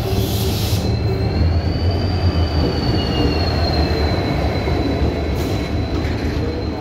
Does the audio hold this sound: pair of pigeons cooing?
no